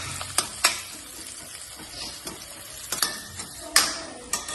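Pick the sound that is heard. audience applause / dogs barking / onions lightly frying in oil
onions lightly frying in oil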